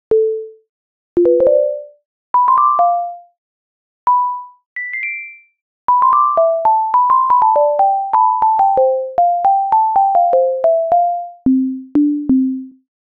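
A series of clean synthesized sine-tone plucks at varying pitches, each short and decaying quickly, forming a melodic run with brief pauses between phrases.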